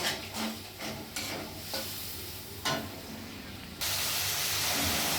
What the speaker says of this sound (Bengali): আমার মশলাটা একদম কমপ্লিট ভাজা ভাজা হয়ে গেছে, তেল ছাড়ছে